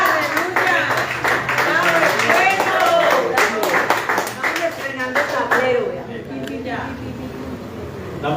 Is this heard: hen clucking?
no